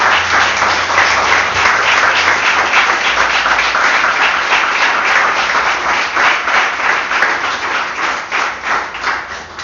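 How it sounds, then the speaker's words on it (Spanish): A church congregation claps together at a service, with sustained and loud applause filling the room without a break and a faint low hum beneath it. "aplaudid al Señor"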